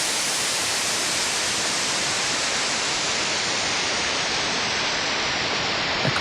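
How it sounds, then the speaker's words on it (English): A steady, loud hiss of synthesized white noise, bright and even, running unbroken for several seconds. "A white noise."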